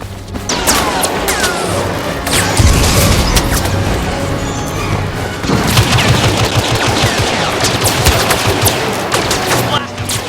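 Dense Star Wars Battlefront gunfire with rapid blaster bursts and heavy explosions, loud and continuous from start to finish, with crashes layered throughout.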